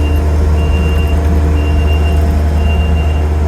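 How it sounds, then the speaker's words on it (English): A 1985 C70 spreader truck idles nearby, its diesel engine a loud, steady low rumble with a faint repeating high beep above, no one speaking. "That's the old spreader truck. It's 85 C70."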